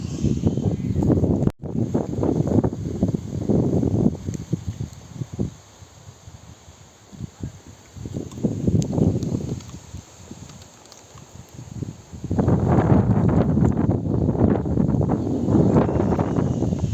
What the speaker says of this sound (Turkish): rüzgarın şiddeti baya baya arttı.